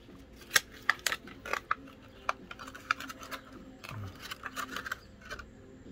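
Hard plastic packaging around a Philips OneBlade shaver being pried and torn open, giving a series of sharp close crackles, snaps and clicks in irregular bursts, mostly alone with faint background noise.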